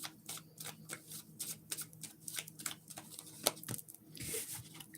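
Tarot cards shuffled and pulled, close, quiet riffling and snapping in an irregular flurry with soft flicks as cards are drawn, no talking.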